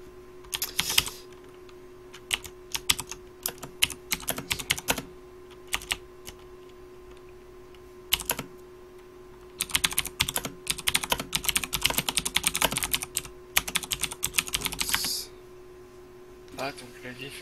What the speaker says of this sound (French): Ah, ton clavier fait un bruit bon sur le